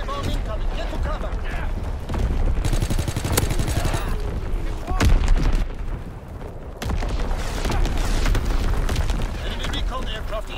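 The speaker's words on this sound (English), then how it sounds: "Artillery, get to cover! Enemy bomb incoming, get to cover!" Artillery shells and bombs going off in a war video game, repeated booms and crackling blasts with rattling gunfire, loud and continuous while a game voice calls out warnings over the chaos.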